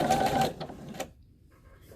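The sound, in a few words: sewing machine stitching flannel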